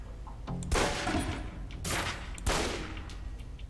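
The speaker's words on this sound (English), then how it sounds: "Equip the pistol, then aim down range and take some shots at the target." Pistol shots fired downrange at a target in the Alpha Protocol game, three sharp reports spaced about a second apart, each followed by a fading echoing tail.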